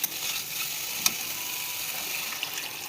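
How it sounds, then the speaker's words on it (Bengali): Shrimp curry base fried with naga chilli sizzles steadily in a pan as water is stirred in, a dense continuous hiss with a couple of sharp clinks from a utensil, no voices. "নাড়াচাড়া দিয়ে জল দিয়ে দেব।"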